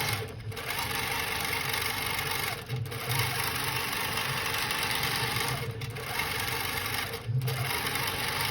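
A Handi Quilter longarm quilting machine with a glide foot stitching, a fast steady mechanical hum that halts briefly a few times before running on.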